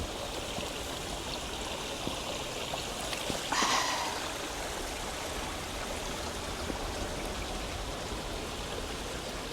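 A forest stream in the coastal jungle near Paraty, Brazil, flows in a steady broadband rush of water, with a brief brighter splash or trickle standing out partway through.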